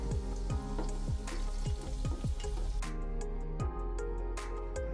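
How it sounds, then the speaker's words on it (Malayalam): Half a finely chopped onion sautés in a pan with a continuous soft sizzle, broken by scattered clicks and scrapes as it is stirred. "ഇനി അതിലേക്ക് ഒരു സവാളയുടെ പകുതി ചെറുതായി കട്ട് ചെയ്തത് ഇട്ട് കൊടുത്തിട്ട് നമുക്കൊന്ന് നല്ലപോലെ വഴറ്റി"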